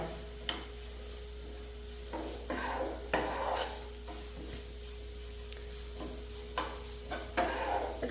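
Onions frying in a pan for crab curry are stirred with a utensil, giving repeated scraping strokes over a steady sizzle, close by and without talk.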